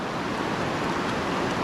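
The clear Suiattle River rushes past a rainforest campsite in the valley below Glacier Peak, a close, steady broadband hiss of flowing water with no voices.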